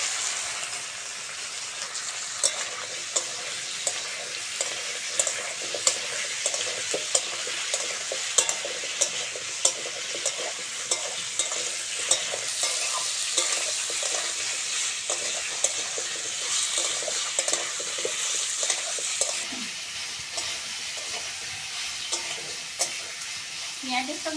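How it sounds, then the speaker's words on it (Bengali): Jackfruit fries with lightly browned onion in a pan, sizzling steadily and loudly for a long stretch, with frequent scraping stirs and clicks of a spatula and no talk. "পেঁয়াজের সঙ্গে এঁচড়টা ভালো করে ভাজতে হবে"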